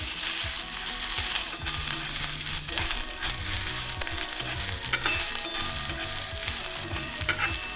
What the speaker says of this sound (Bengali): এবার আবারও ভালো করে এই পুরো মশলাটা কষিয়ে নেব